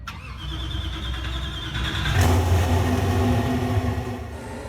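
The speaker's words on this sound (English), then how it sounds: "here is the startup and rev at the same time" Hennessy Venom F5 Revolution Roadster in the Driving Empire video game, a single engine startup followed by a loud rev that swells midway and holds a deep roar.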